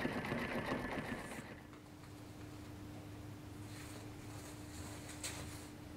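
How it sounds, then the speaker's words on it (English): A computerized embroidery machine stitches the center of a trapunto quilt held in a hoop, giving a steady mechanical hum with a rapid needle rhythm, heard close and fairly quiet and alone after a brief louder start. "So we're going to now do the embroidery in the center part"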